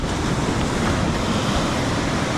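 Steady roar of ocean surf washing in continuously, loud and close, with wind rushing over the microphone and no voices.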